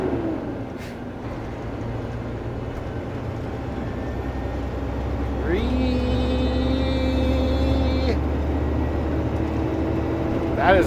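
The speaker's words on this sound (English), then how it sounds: "That's the normal sound the truck makes. It literally sounds like a fan ramping up." A truck engine gives a rising, fan-like whine over a low road rumble, the tone climbing and holding before it drops away, heard from inside the cab.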